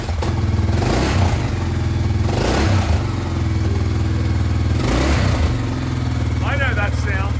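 A 1995 Honda XR100 trail motorcycle engine idles steadily nearby with a low, even thrum and a few revs rising and falling, while a voice talks briefly near the end.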